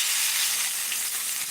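A steak sears in a Wagner 5-Star combo cast iron skillet, giving off a loud, steady, hissing sizzle with no voices.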